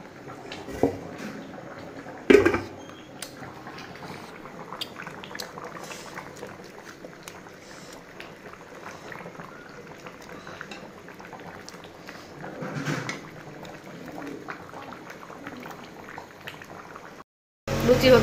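Luchi, puffed flatbreads of maida flour, bubble and fry in hot oil with a soft continuous seething, punctuated by a few sharp knocks, under occasional quiet voices.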